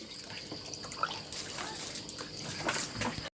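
Thai rice noodles being rinsed again in water by hand, with close splashing, trickling and sloshing, a few drips, ending abruptly.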